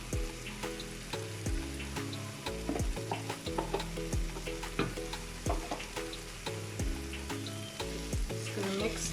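Chickpeas stirred into broken-down cooked tomatoes in a hot pan, giving a steady sizzle with repeated scraping stir strokes close up over a tonal background hum.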